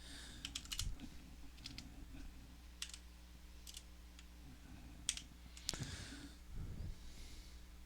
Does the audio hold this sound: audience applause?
no